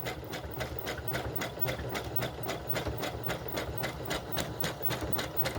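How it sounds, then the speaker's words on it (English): A sewing machine stitches a doll bodice from Burda pattern 8843 with a steady, rapid rhythmic clatter of the needle, close and continuous throughout, with no voices. "we're going to go ahead and sew this on"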